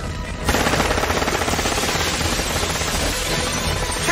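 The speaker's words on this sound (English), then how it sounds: "Stop shooting the glass!" Rapid, continuous gunfire sprays into glass in an animated TV show, a dense loud rattle of shots mixed with shattering that starts abruptly and keeps going for several seconds.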